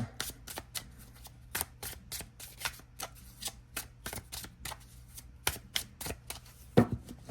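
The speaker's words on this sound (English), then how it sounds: "That is a beautiful shuffle." An oracle card deck is shuffled repeatedly in quick, crisp riffling bursts, a steady rhythm of sharp flutters heard up close with no talking.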